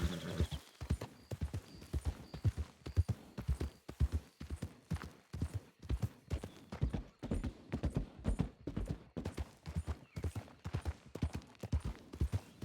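Horse hooves clip-clop in a steady, even rhythm throughout a RedM roleplay game scene set on the road to Valentine, close and continuous with a brief neigh-like tone in the background.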